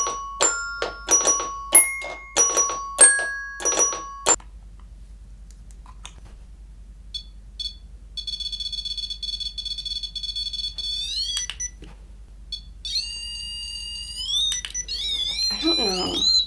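A malfunctioning REM pod ghost-hunting device in a supposedly haunted house, sounding bursts of rapid electronic beeps and tones, first a quick repeated run, then pauses, then warbling, rising and falling alarm-like pitches, close and fairly loud.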